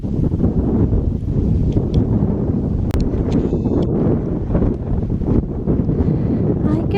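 Strong wind buffeting the microphone outdoors near a hot spring in an open meadow, a loud continuous low rumble with gusty surges throughout.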